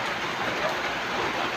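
Steady hiss of rain pouring down during an outdoor meal, a dense, even wash of drops that holds at constant loudness without pause.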